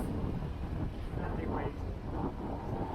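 Strong gusty wind sweeps across Lake Ontario aboard a Catalina Capri 26 sailboat in choppy water with whitecaps, gusting to about 15 knots; a loud, steady roar of wind buffets the microphone throughout without letup.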